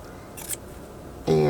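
Scissors snip away excess fabric at the top of a handmade fabric-covered bookmark, a short crisp cut followed by a louder rustle near the end.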